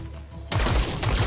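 A sudden burst of rapid gunfire erupts after a quiet moment, loud and close, like automatic weapons firing in the game XCOM: Chimera Squad.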